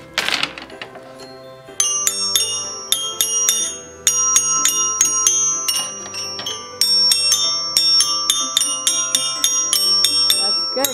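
A musical Christmas toy plays Jingle Bells as a bright, tinkly bell melody, a steady run of chiming notes repeating the simple tune at a lively pace over a soft background.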